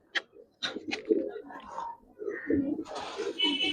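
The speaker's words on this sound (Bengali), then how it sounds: "সুন্দর একটা লাল পাখি কবুতর দেখেন" A red pigeon coos softly in short, low bursts between a man's nearby speech, with faint rustling and other bird sounds around it.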